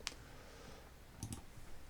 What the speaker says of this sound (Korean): 다시 키보드 5를 누르고